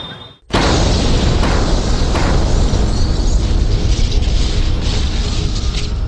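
A bomb blast in a crowded area of Delhi: a sudden loud boom after a brief quiet moment, then a sustained roaring rumble of debris and noise that stays loud to the end.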